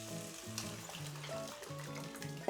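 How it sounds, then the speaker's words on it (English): Tomato sauce goes into a pan of aubergines, giving a faint, steady sizzle and bubbling with light stirring clinks and a sharper knock at the end, close and quiet. "The sauce is ready and I'm now going to add it to the aubergines."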